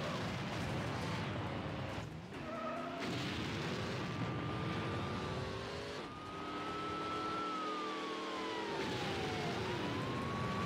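Police car blowing up during a chase in the racing game Need for Speed: Hot Pursuit 2, with a heavy boom and rumble over constant engine roar and a wavering siren-like whine; no talking.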